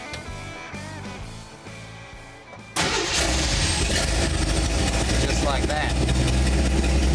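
A Jeep 258 cubic inch inline six-cylinder with an EFI system fires up abruptly partway through and settles into a loud, steady idle, with a voice speaking briefly before it catches.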